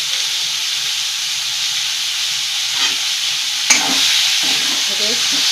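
500 grams of chicken fry in spicy masala in a pan on a low gas flame, with a steady loud sizzle and hiss while it is stirred, bringing a few scraping knocks toward the end.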